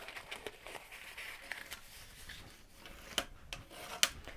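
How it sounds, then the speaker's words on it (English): Paper is folded along score marks for a round ornament box, giving soft rustling and creasing with a few light taps and crinkles, quiet and close. "And then we're going to fold on all the score marks in the other direction."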